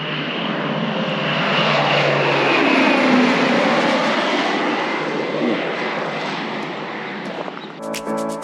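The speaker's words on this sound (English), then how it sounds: "Well, you can watch the plane. We've got a plane." A propeller airplane passes overhead during a break in the rain, its steady loud engine drone swelling and slowly fading over several seconds, with a brief clatter near the end.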